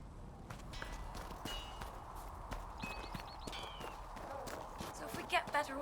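Horse hooves clip-clop at a steady walking pace in the fantasy game Dragon Age: Inquisition, moderately close, with music and ambient sounds beneath and a few brief chimes.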